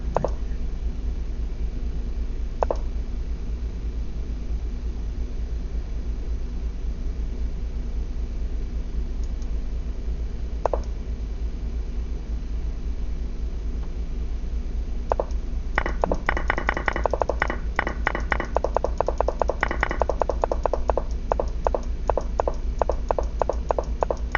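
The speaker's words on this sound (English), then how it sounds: "I'm just clicking buttons." Buttons being clicked during computer chess play: a few isolated clicks early on, then a quick, dense run of sharp clicks near the end, all over a steady background hiss with no talking.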